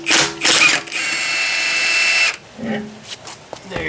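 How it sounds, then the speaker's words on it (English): An impact wrench rattles loose wheel lug nuts on a BMW M340i: a few short hammering bursts, then a sustained loud rattle of over a second, followed by quieter clinks. "we have switched it to the nut buster."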